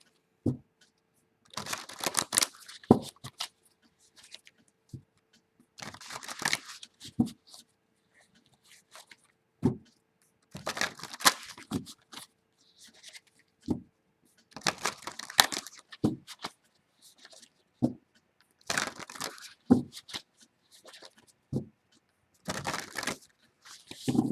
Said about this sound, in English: So I'm going to shuffle the cards a few times, and then we'll begin the reading.